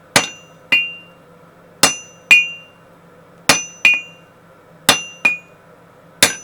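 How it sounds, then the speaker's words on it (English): Sharp metallic hammer strikes ring out on an anvil in an irregular rhythm as steel is forged into a drift, about nine blows with bright ringing tones, close and loud over a low hum. "Turn it with every blow so no surface is bearing on the anvil for too long."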